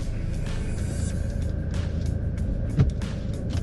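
A 2004 Audi A4 accelerating hard down a straightaway, heard from inside as a steady, full engine and road rumble with one brief thump near the end.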